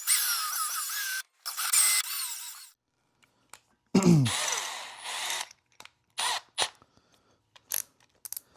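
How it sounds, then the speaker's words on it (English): A power drill with a 3/8 inch bit runs in short bursts, whining loudly, stopping and restarting several times with brief clicks and quiet gaps between the runs. "This is a 3/8 bit that makes these fit in snug."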